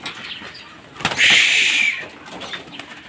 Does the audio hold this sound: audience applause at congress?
no